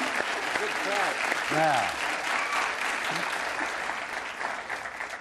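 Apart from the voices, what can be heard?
studio audience applause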